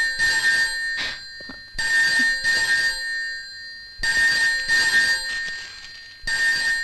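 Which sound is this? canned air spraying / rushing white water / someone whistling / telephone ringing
telephone ringing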